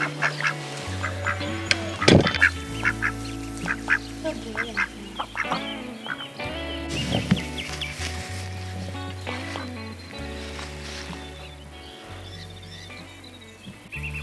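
A flock of homestead ducks quack in a busy overlapping chorus as they crowd close, with a low steady hum running underneath and a voice speaking now and then.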